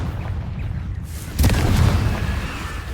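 A fiery Confringo blast spell explodes in a Harry Potter video game during a zombie fight, a single booming burst rising over steady game noise and then fading into a rumbling tail.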